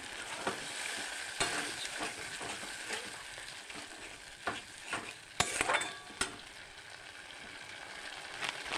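Milk paneer curry being stirred and sautéed in a pan, a soft sizzle under repeated scraping strokes of a spoon, with several sharper clinks and scrapes standing out, close and fairly quiet.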